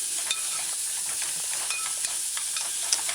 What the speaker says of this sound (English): And just allow it to break down and saute.